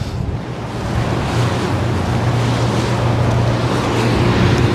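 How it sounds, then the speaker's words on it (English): Gusty summer wind by the harbour water near Circular Quay in Sydney, a steady loud rumbling buffet over the microphone with a surf-like wash underneath and no talking. "And now I'm down near the water, of course, it's quite blustery."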